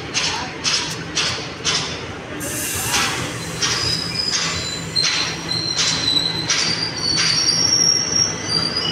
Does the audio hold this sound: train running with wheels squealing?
yes